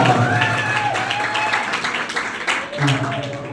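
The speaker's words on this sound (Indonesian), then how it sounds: "Tepuk tangan sekali lagi semua." A crowd applauds with dense clapping while voices talk over it, at a religious moderation talk.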